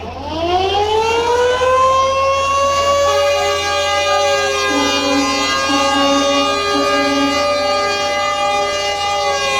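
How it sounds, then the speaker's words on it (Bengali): Passenger launch Parabat 18 blasts its loud, steady horn at Barishal ghat, a single long sustained tone held for about ten seconds with a rich harmonic drone and no talk over it. "পারাবাত 18 আবারও 3টা হরেন দিল"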